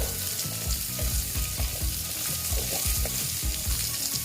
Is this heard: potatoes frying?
yes